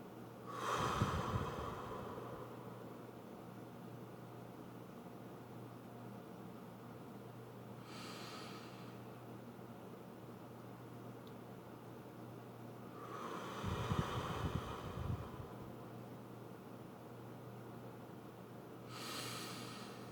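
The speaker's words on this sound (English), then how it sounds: "just breathe with me." Several slow, deep breaths come close to the mic, spaced widely apart, each a soft, airy inhale or exhale over a quiet background hum.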